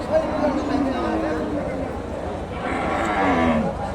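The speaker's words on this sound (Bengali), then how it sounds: "দেশি জাতের গাভী," A native-breed cow moos at a busy cattle market, its long low calls rising above the crowd's chatter and livestock noise, with people talking nearby.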